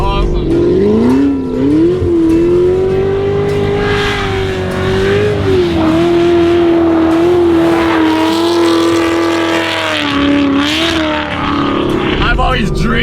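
NASCAR Camaro race car at Hennessey Performance accelerating hard with tires squealing, a loud sustained engine roar whose pitch climbs and dips across several gear shifts, close and dominant, with voices faintly underneath.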